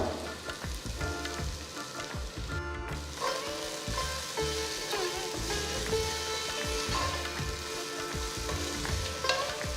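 Coriander and mint frying in a pan while being stirred, a steady close sizzle with scraping stir strokes throughout and no talking.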